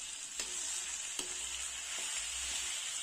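Turmeric and garam masala spices sizzle steadily in a hot pan for a pulao, with a few sharp scrapes and clicks of a spoon stirring them through, continuous and close with no talking.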